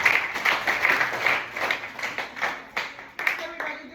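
A small audience at a performing-arts advocacy event in Nigeria claps for a few seconds in a loose, uneven patter that swells and thins, with chatter and voices mixed in.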